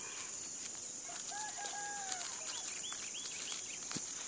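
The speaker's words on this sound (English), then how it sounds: "Got the rooster crowing back there." A rooster crows at a homestead among sunflowers. The crow is fairly distant and rises and falls, with smaller bird chirps and clucks nearby over a constant high insect-like hum.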